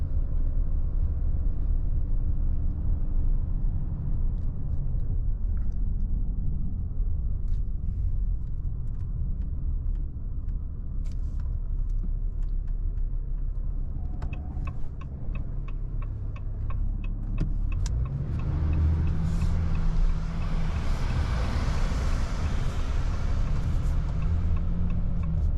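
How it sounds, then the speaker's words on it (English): A 2025 Ram 2500 pickup with a Cummins diesel engine accelerates from inside the cab, a steady low engine drone that rises in pitch and strength through the last several seconds, with faint ticking along the way. "Try to get up to speed and show you the 8th gear, how quickly it comes out."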